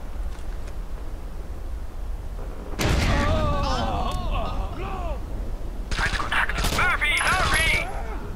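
Explosive charge blasting through a wall in the Rainbow Six Vegas video game: a heavy boom bursts in around three seconds, followed by crackling debris and gunfire-like bursts, with another loud burst later, all close and loud over game ambience.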